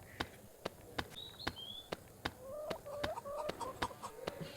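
Chickens cluck in the Bangladeshi video game Meena 2, short close clucks and calls over a steady ticking rhythm of game sounds, with no voices.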